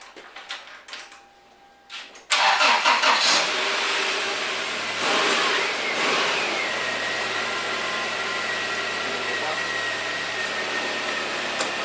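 A 1997 Toyota Tacoma truck engine catches with a sudden loud start after a few quiet clicks, then settles into a steady close idle that runs on alone.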